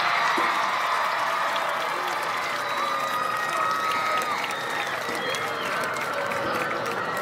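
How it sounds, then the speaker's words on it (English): Crowd in the stands at an Indiana high school football game applauds the homecoming court, a broad steady wash of clapping with some cheering, heard from a distance with tonal sounds drifting over it. "how about another round of applause for all of our prince and princesses."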